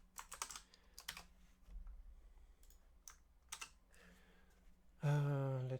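Rapid key clicks of a password being typed on a computer keyboard, several short bursts of close, light tapping, followed at the end by a brief loud buzzing tone.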